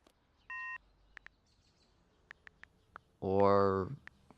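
A phone gives a single short electronic beep, followed by a few soft clicks in a quiet room. A brief voice-like burst comes near the end.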